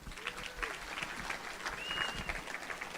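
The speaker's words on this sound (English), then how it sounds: "so let's give them a round of applause" Audience applause at a chamber of commerce annual meeting, a steady patter of many hands clapping in a room for the full stretch, with a few faint whistles and voices mixed in.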